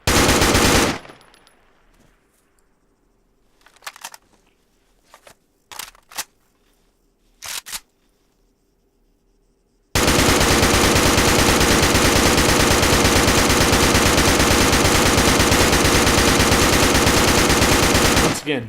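Machine gun fire from a video game mod comparing weapon versions, a sparse burst of separate shots followed by a long, loud, unbroken stretch of sustained automatic fire, with a brief voice near the start.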